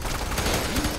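Dense, continuous machine gun fire rattles loudly through a firefight in the video game Fear 3, rapid overlapping shots with no pause and no talking.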